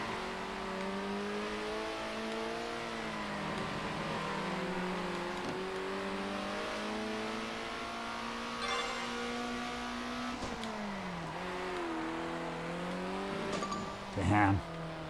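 Racing car engines from a 1960s-style grand prix in the top-down game Circuit Superstars, a steady layered whine rising and falling through gear changes, with commentary talking over it and a brief burst near the end.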